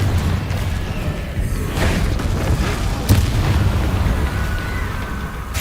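A Confringo fire spell explodes in Hogwarts Legacy, giving a loud, rumbling boom with a sharp burst in the middle over continuous dense game noise.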